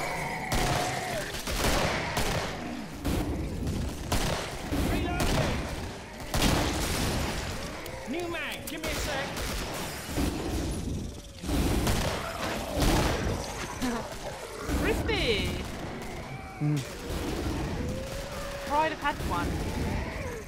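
Dense, rapid gunfire from the co-op shooter game Killing Floor rattles throughout in near-continuous bursts with sharp impacts, while players talk over the shooting.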